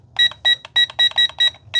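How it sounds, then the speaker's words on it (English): A fast series of seven sharp electronic beeps in quick succession from a Plegble 4K camera drone, loud and close, with a faint low hum underneath. "I don't love that it beeps each time"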